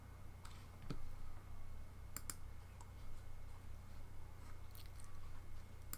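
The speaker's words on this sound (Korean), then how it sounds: "스페이스를 한번 누르고 한번 다시 끄고 이렇게 톡을 하는 식으로 스페이스를 누르는 거고요" Sharp, isolated clicks of a MacBook spacebar being pressed, a handful of separate taps spaced apart over a steady low hum, with no talking.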